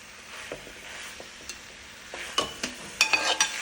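Coconut oil goes into a pan of avial, a Kerala mixed-vegetable dish, followed by soft, sparse stirring and scraping with a light sizzle, growing into several sharper clinks of the spoon against the pan toward the end.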